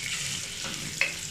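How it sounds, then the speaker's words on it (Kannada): Onions frying in a cooker over high flame, a steady bright sizzle throughout with a brief stirring scrape near the end, close and fairly loud. "ಸೊ ಇದು ಆನಿಯನ್ಸ್ ಚೆನ್ನಾಗಿ ಫ್ರೈ ಆಗಲಿ."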